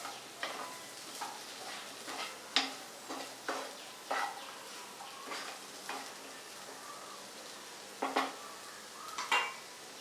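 Potatoes fry in a pan with turmeric, chili powder and asafoetida while a spoon stirs them, giving repeated sharp scrapes and clinks against the pan over a faint sizzle, close and alone.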